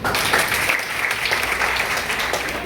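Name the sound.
audience applause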